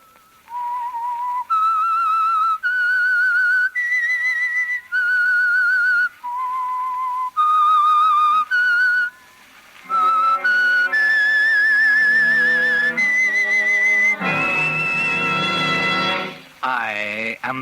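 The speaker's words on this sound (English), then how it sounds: "That whistle is your signal for the signal oil program," A man whistles the theme signal of The Whistler radio program, a clear, close melody of sustained notes with short pauses between phrases. Orchestral music joins near the end.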